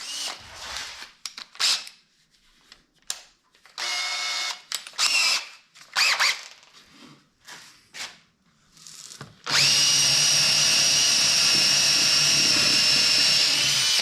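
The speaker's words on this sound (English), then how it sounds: "We'll woodworm screw that and get this on the lathe" Drill driving a woodworm screw into a maple blank before lathe turning, a series of short whirring bursts with gaps, then a loud sustained high whine.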